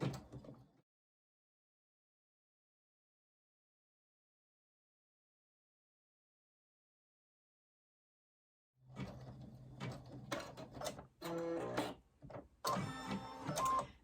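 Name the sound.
sewing machine stitching a placement stitch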